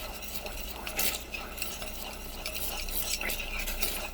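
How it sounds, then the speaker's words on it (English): A remedy mixture for colds and coughs is stirred in a pot while it boils, giving a steady close scraping and bubbling with a few light clinks, and no voices. "We're going to stir it up a little bit."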